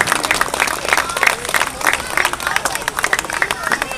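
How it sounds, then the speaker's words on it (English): A crowd at a BMX Gold Cup race ceremony in Aberdeen applauds, with brisk overlapping clapping and cheering from many people close by, steady for several seconds, with some crowd chatter mixed in. "everybody, a big round of applause for Aberdeen BMX and Kyle Oswald, track operator"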